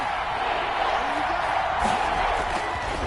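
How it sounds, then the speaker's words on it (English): A football stadium crowd at a Chargers at Chiefs game roars in a dense, steady wall of cheering with scattered whoops, loud and continuous throughout. "That just means this crowd's going to get even louder"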